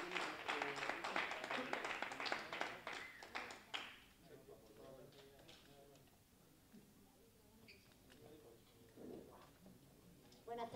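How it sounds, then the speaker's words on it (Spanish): Applause from a concert audience at a live music contest final, a dense burst of clapping for about four seconds that thins out, followed by quieter room noise and scattered sounds. "un aplauso, por favor"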